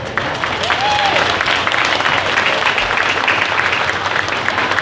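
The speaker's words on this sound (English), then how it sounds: "we will go ahead and give you a round of applause as well" A crowd at a fair queen and princess coronation claps steadily in sustained applause throughout, with a brief whoop rising above it.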